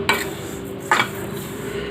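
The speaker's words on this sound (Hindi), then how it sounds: "तो तीनों चीज़ें हम एक साथ मिलाकर भून रहे हैं" Three ingredients stirred and dry-roasted together in a pan over low heat, two distinct scraping strokes against the pan surface over a steady low background hum.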